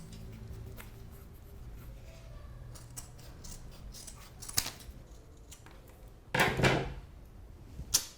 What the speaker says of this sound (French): Je vais faire ma découpe au ciseau